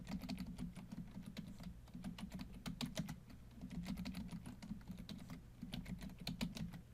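Steady keyboard typing of a Linux passwd command to set a new user's account password, dense rapid keystroke clicks continuing throughout at close range with no talking.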